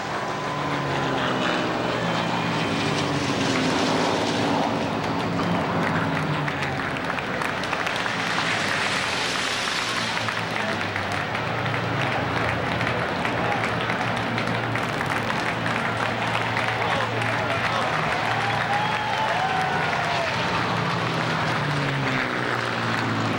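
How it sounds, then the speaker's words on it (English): Propeller-driven B-17 bomber flying over a crowd at the Indy 500 Memorial Day ceremony, a loud sustained engine roar that swells and lingers over a broad open-air crowd wash. "a flyover by a B-17 and the rendering of taps."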